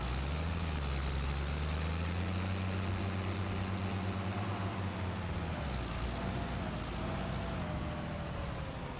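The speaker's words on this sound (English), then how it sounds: "With our loud old tractor here." An old tractor in a farming video game chugs with a loud, rough, droning engine that holds steady, with a low rumble and a slight shift in pitch partway through, and no talk over it.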